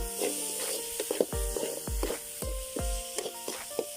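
Small onions and regular onions fry in a pan for a village-style crab roast, with steady close sizzling broken by repeated rhythmic scraping strokes of stirring and no talking.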